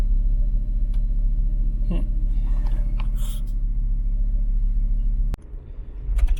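Volvo V70 wagon being driven, a steady, close low engine and road rumble heard from inside the car that drops abruptly near the end, followed by a few faint clicks and knocks.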